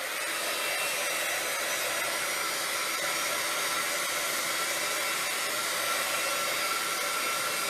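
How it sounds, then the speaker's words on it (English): A heat tool blows hot air to dry tinted paint, giving a steady, loud, unbroken whooshing roar that holds even throughout, with no voices. "I'm just going to dry that with a heat tool."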